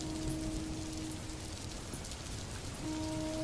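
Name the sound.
rain on a stormy night, animated cartoon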